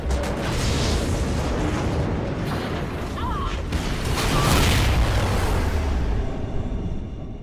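A space station detonates in the Call of Duty: Ghosts game, a loud, sustained rumbling blast with booming surges, while voices talk over the din.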